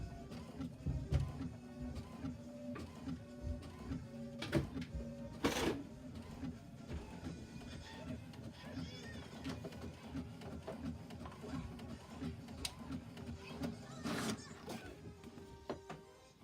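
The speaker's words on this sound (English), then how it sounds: "While that is printing" Home printer printing a page during a Cricut craft project, a steady mechanical whir with rhythmic feed clicks and occasional louder clunks, close by and running alone.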